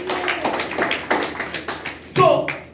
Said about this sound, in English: Let's clap for the Holy Spirit.